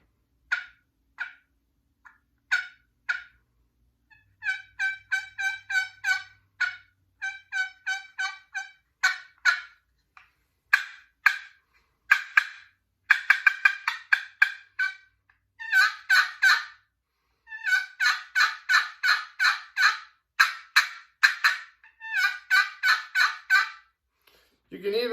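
A hand-operated turkey call, a box call or crystal friction call, imitating hen turkey yelps and clucks: loud, clear, rhythmic series of raspy high notes in repeated bursts, alone with no talking.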